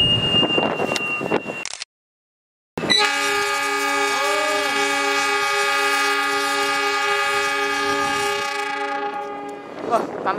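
Malabar passenger train arriving at a railway station in Indonesia, its loud horn sounding in a long sustained blast with a wavering middle, after a brief silence and some nearby voices, then fading as carriages roll by.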